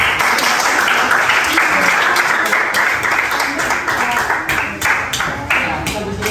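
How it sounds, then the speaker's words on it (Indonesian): Classroom applause for a student group, a dense burst of many hands clapping at once, loud and close, continuing steadily throughout with slight irregular peaks and no voices. "Beri tepuk tangan kelompok."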